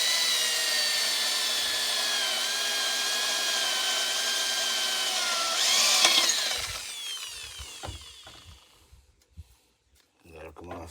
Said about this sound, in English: So we gotta drill these out.